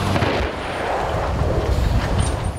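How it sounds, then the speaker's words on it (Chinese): Russian artillery fire and explosions on a battlefield in Ukraine make a dense, rumbling roar of blasts with heavy low booms rolling together without a break. "俄军炮火打了过来，乌克兰士兵急急忙忙在爆炸声中转移阵地。"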